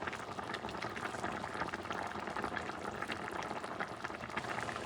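A pot of bison stew with bay leaf and rosemary at a rolling boil, its dense, continuous bubbling and simmering steady and close throughout.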